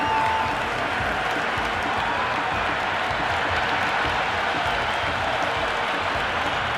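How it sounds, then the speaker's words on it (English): Simulated stadium crowd in the cricket video game Cricket 26, India batting against South Africa, a steady dense roar of cheering and applause filling the whole stretch without a break. "The crowd is electric right now."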